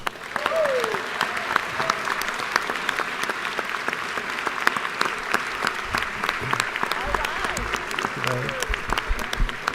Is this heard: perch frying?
no